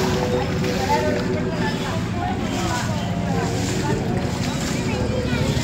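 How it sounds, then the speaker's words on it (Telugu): Rainwater rushes in at a temple entrance in Arunachalam after heavy rain, a steady broad wash of flowing water with wind buffeting, continuous and fairly loud, while people talk faintly in the background. "ఒక గుడి ఎంట్రన్స్ దగ్గర ఇలా వాటర్ వచ్చేస్తున్నాయి"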